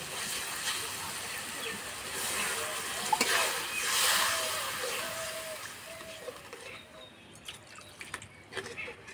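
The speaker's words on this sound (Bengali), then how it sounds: "এবার আমি জল দিয়ে দেবো।" Water poured into frying spice paste for a besan pakora curry in a home kitchen, a hissing sizzle that swells loudly then settles into softer bubbling and scattered drips, with no talk.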